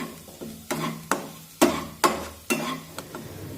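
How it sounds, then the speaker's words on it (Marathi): Spoon stirring half a teaspoon of turmeric into sautéed green chillies in a pan, a series of about eight sharp scraping strokes in an uneven rhythm over a soft, low sizzle, close and fairly quiet. "आता यामध्ये अर्धा चमचा हळद टाकूया आणि हळद सुद्धा यामध्ये व्यवस्थित मिक्स करून घेऊया"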